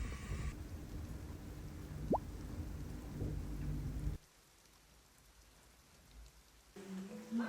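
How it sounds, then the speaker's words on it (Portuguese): Rain falls steadily with a soft, even patter. It drops to a much quieter hush partway through, then comes back stronger near the end, and there is no speech. "chuva, chuvisco, chuvarada, por que que chove tanto assim?"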